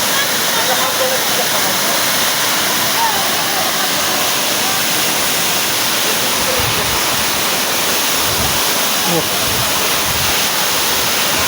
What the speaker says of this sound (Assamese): চাওক কি সুন্দৰ জলপ্ৰপাত এইটো